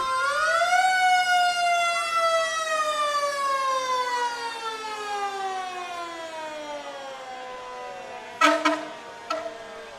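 A fire department ladder truck's siren at the Dew Days parade in Farmington winds down in a long, falling wail, loud and steady, followed by a couple of short air-horn blasts near the end.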